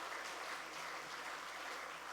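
A church congregation applauds the choir during a Sunday morning worship service, a soft, dense, continuous patter of many hands heard from a distance and fairly faint, with no voices above it.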